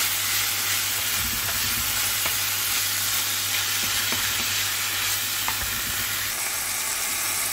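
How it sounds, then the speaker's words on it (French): Ground beef fries in olive oil in a pan for quesadilla filling, giving a steady, dense sizzle with occasional soft stirring scrapes throughout and no voices. "La viande cuit tranquillement et on mélange de temps en temps."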